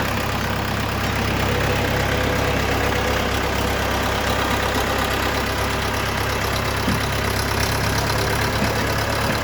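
Orion RF404 40 hp tractor with rear-wheel drive idles steadily close by, a continuous mid-low engine drone with faint knocking texture and no talk over it.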